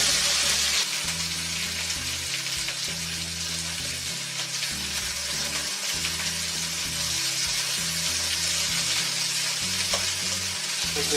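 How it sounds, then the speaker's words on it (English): Potatoes for aloo posto frying in a pan, a steady close sizzle with a regular scraping and stirring rhythm throughout and no talk. "Mix it off like this till you're sure that everything is fried in."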